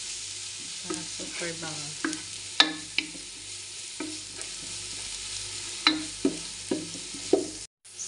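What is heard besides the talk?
frying until dark brown for Filipino spaghetti sauce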